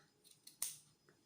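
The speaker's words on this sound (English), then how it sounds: "just trim away where you want to trim" Scissors snip a gonk's fabric beard in a few quick, faint close cuts, one crisper snip standing out from the small blade clicks in a quiet room.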